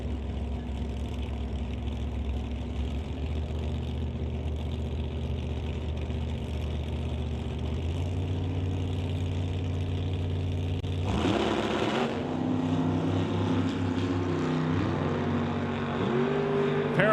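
A Ford Mustang drag car staged at a drag strip, its engine idling with a steady low rumble before revving up and roaring louder near the end, heard close and without talk.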